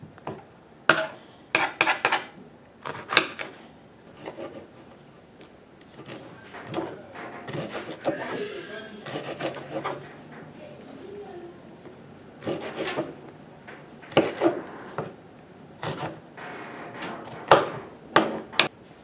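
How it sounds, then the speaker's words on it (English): A knife cutting a jalapeno on a board: a string of crisp, irregular chops and taps close by, with soft rubbing and sliding between the cuts and brief pauses. "To cut your jalapeno."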